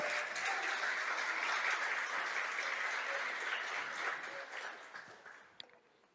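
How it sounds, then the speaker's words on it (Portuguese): A church congregation applauds during a sermon. The clapping fills the room as a dense, steady patter, then thins out and fades toward the end. "Você pode aplaudir o Senhor?"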